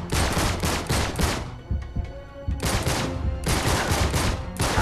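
Heavy gunfire rattles through a firefight in the video game Uncharted 3, loud sustained bursts broken by a short lull before the shooting resumes, with no talk over it.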